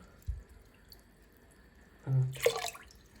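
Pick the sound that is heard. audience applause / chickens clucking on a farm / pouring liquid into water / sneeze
pouring liquid into water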